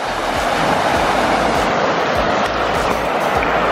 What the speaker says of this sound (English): And that's the waterfall, guys.